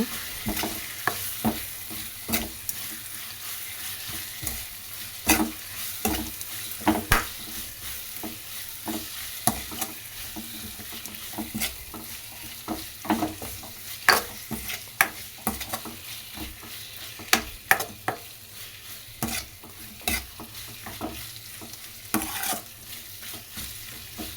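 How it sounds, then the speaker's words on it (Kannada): Raw mango and rice mixed with turmeric get stirred and roasted in a pan, with a steady low sizzle and a scatter of sharp spoon scrapes and clinks repeating through the whole stretch, up close and with no one talking. "ಈ ಥರ ಮಿಕ್ಸ್ ಮಾಡ್ಕೊತ ಮಾಡ್ಕೊತ ಹುರ್ಕೊಬೇಕು ಮಾವಿನಕಾಯಿ ಎಲ್ಲ"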